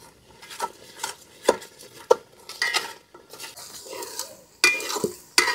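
Mutton curry gets stirred in a pot as ground spices go in. A spoon scrapes and clanks against the metal in irregular bursts over a faint sizzle, close and fairly loud.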